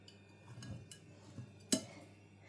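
A few light clinks of dishes and utensils as a hot plate comes out of a microwave, one sharper clatter near the end, quiet and close in an otherwise calm room.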